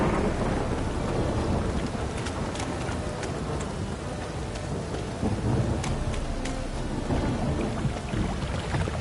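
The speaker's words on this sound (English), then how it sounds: "A storm, damn it." A thunderstorm in The Witcher 3: Wild Hunt, with steady heavy rain and scattered thunder cracks that rumble on throughout.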